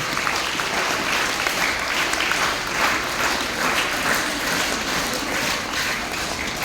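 Steady, dense audience applause at a talk on the importance of sports, many hands clapping continuously and fairly close, with no speech over it.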